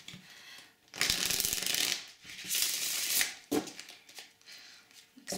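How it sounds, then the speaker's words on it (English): Smooth-stock Prisma Visions tarot cards being shuffled by hand, two long riffling bursts with softer handling and card rubbing in between, close and clear with no talk. "how good is shuffling these cards"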